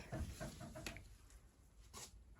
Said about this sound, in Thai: อันนั่นไก่